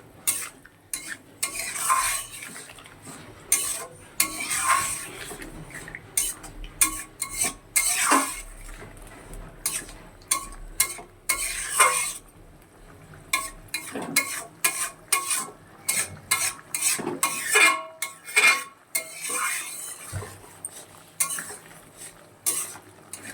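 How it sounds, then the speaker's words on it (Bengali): Spice masala being stirred and fried in a pan for a fish curry, with steady scraping of a utensil against metal, clinks of cutlery and a low sizzle running throughout, close and fairly loud. "এবার মশলাটাকে খুব ভালো করে কষিয়ে নেব।"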